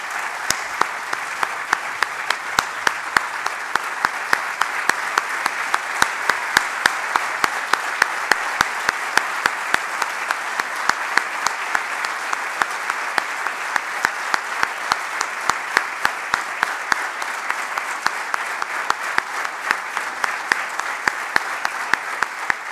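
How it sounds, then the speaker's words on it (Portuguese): Sustained audience applause at a municipal council swearing-in ceremony for the 2021–2025 term, steady and dense clapping from a large crowd that holds at an even level throughout, with no talk over it. "Para a Francisca Abreu, peço por isso uma salva de palmas."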